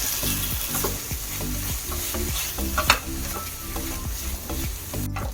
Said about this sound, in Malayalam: നാളികേരം നമുക്ക് ചേർത്ത് കൊടുക്കാം ശേഷം നന്നപോലെ ഇളക്കി ചേർക്കാം